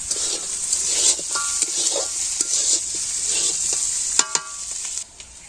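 Chicken pieces for a village-style curry sauté in a pan, a continuous sizzle with frequent stirring scrapes and sharp spoon clinks against the metal toward the end.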